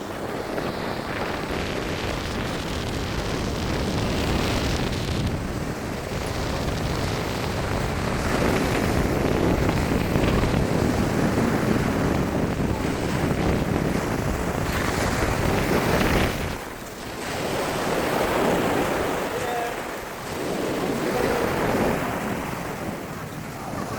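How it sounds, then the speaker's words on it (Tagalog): Sea waves break along the shore at Isla Gigantes in Carles, Iloilo, in a loud, continuous wash with wind buffeting the microphone, rising and easing in long surges and a brief dip in the middle. "Dito sa may dagat."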